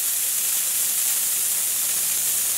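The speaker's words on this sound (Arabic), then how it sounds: "أول ضغطة بيبدأ بيشتغل بخار مع ماء" A handheld steam cleaner releasing steam mixed with water on its first press, a continuous loud bright hiss with no break and no talk.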